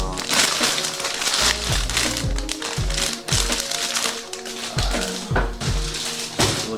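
Sneaker box packaging for Nike SB Dunk Low shoes is opened, giving close, loud crinkling and crunching of paper and cardboard in irregular bursts, with no talk.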